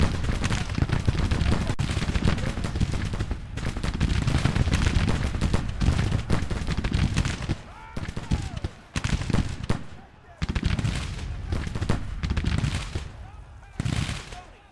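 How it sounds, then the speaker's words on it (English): Soldiers' gunfire in the Grand Tactician: The Civil War game, massed musket volleys and crackling shots rolling steadily and loud with a few short pauses, a voice talking over the firing. "Shooting at them, I want you shooting at them."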